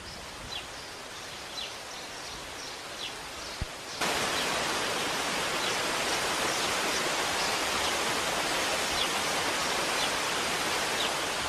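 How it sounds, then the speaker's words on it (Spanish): A waterfall in a Galician palace garden near Santiago, fed by the river crossing the estate. Quiet outdoor ambience with faint bird chirps gives way to a loud, steady rush of falling water. "Pocos jardines del mundo cuentan con su propia cascada."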